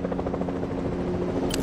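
Helicopter in the Fortnite video game, a steady rotor drone with pulsing beats running throughout at moderate level, not very close, with a brief brighter noise near the end.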